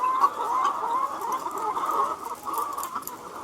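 Chickens cluck steadily and close by for the whole stretch, a busy, overlapping chorus of hen calls with no one talking.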